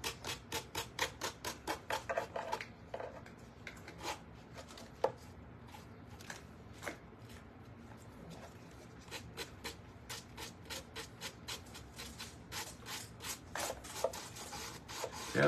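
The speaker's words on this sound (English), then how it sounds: "I'm going to sand this as I hold this here. I'm just going to sand this right off the edge here." Hand sanding the edge of a wooden birdhouse, rhythmic scratchy back-and-forth strokes, close and fairly quiet, with no talking.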